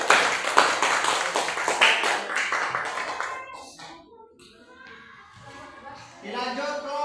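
Group applause in a school classroom activity: several seconds of brisk, fairly close clapping that fades out, followed by a quieter stretch and then a voice speaking.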